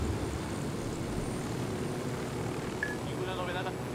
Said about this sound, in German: Der Helikopter will nicht so ganz, wie ich das möchte, ne?